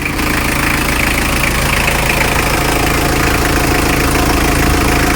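A rebuilt Mitsubishi L300 engine runs steadily at idle, a loud, constant close-up mechanical drone with a faint rhythmic knock.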